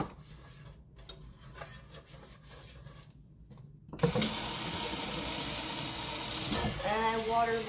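Tap water gushing loudly into a kitchen sink over a non-stick pan being rinsed, sudden and steady after a quieter stretch of small clinks and handling noises, with a voice briefly near the end.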